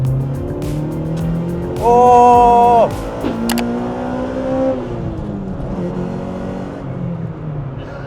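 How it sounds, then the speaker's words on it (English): A Honda Civic EK9 Type R, the Spoon demo car, drives with steady engine and road noise, a brief rising rev and a short tire squeal, while someone exclaims once over it. "First time ever driving an EK9 Type R, and I am driving none other than the Spoon demo car."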